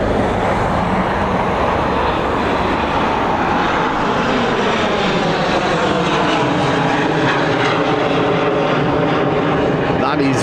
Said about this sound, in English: There it is, it's Air France.